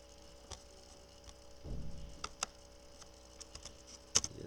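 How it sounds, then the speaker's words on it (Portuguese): Ctrl and Enter keys pressed on a computer keyboard while running statistical analysis in R software, giving a few faint, quiet clicks and taps spread over a soft background hum, with no voices. "pressiona a tecla Ctrl Enter"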